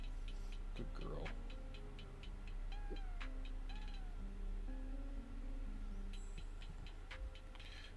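A pet cat meows a few times at a desk, short rising mews over a steady low room hum, fairly close.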